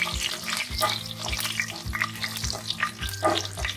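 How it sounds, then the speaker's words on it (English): Whole garlic cloves frying in hot oil with cumin and mustard seeds, a steady close sizzle and crackle with repeated scraping strokes of a spoon rolling the garlic around the pan, no voices. "Roll the garlic nicely until golden brown."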